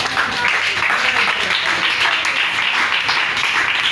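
A church congregation applauding the Lord, a dense continuous wash of clapping from many hands at close range, steady and loud throughout.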